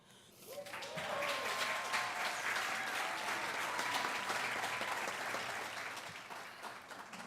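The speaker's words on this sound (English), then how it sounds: "The crowd gives a standing ovation." A crowd rises in a standing ovation, applause swelling quickly from a faint start into a full, sustained roar of many hands before tapering slightly at the end.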